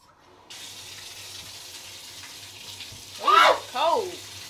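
Tap water runs steadily into a sink while conditioner is rinsed out of a freshly cut head of hair, a close hiss starting after a moment, with two loud bursts of voices over the flow near the end.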